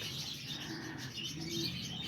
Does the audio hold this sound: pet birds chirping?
yes